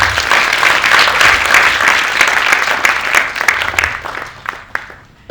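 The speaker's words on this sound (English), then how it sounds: "May we please give a round of applause." A dinner audience at a business school event gives a loud, sustained round of applause, dense clapping from many hands that swells and then fades out after about five seconds.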